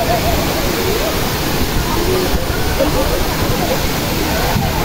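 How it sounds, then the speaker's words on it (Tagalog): Daranak Falls in Tanay, Rizal pours steadily in a loud, continuous roar of falling water, with a faint murmur of people in the background. "dito tayo sa Daraanak Falls sa may Tanay, Rizal."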